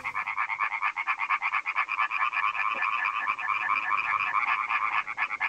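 A dense chorus of frogs croaks steadily in a rapid, pulsing rhythm, loud and continuous throughout with no voices.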